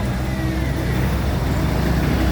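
A zero-turn-radius excavator in Phnom Penh, Cambodia pushes a truck, producing a continuous heavy diesel engine rumble, close and steady throughout.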